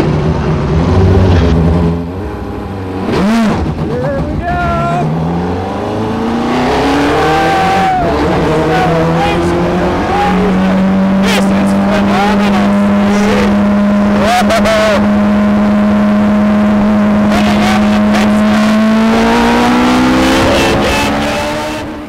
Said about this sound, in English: Cars started up.